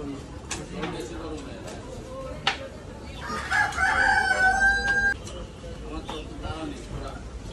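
A chicken at a street butcher's stall in India crows and clucks loudly for about two seconds midway through, with street bustle and other noises around it.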